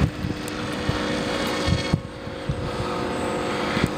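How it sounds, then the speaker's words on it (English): A Skywalker RC plane flies on a single motor after losing the other, producing a steady droning hum outdoors with wind buffeting the microphone in irregular soft thumps. "this plane can just fly with one motor"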